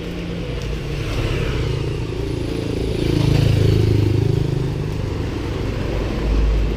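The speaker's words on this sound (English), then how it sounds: "There's a lot of motorbikes here." Motorbikes pass along a street in Batangas City in the Philippines, a steady engine drone that swells as one rides nearby, then eases, with faint clatter in the background.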